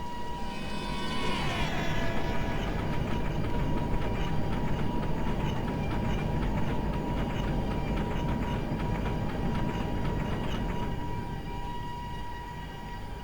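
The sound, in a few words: video game (MSTS) goods train with Alco locomotive passing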